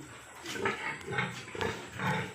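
Low grunts from several breeding sows on a pig farm, close by and fairly soft, repeating in short bursts with no talking.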